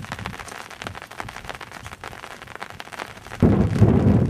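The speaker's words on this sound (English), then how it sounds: "I think this is some of the worst rain we've had." Heavy rain pours steadily on a farm road during a walk, a dense hiss that swells louder near the end.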